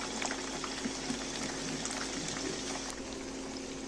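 Cauliflower florets sizzle in hot oil in a pan while browning until golden, giving a steady, dense crackle with scattered pops. The frying continues evenly throughout and sits at a moderate, fairly quiet level with no voices.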